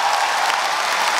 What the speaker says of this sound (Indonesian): Lagi tepuk tangan buat Dani Beler.